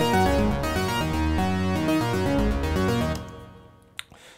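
A Logic Pro ES2 synth patch without its amp plays a clean, tonal, sequenced melody of rhythmic notes for about three seconds. The notes then fade out, leaving a couple of faint clicks. No one speaks.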